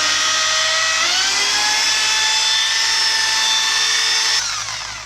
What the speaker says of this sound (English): you can now go back to your dial, turning up your drill